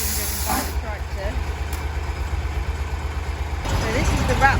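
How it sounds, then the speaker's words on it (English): An old Dexter tractor runs a bale wrapper off its PTO, giving a steady low mechanical drone with a faint hiss on top. It swells louder and rougher near the end. "the bale wrapper has been driven from the PTO on the tractor"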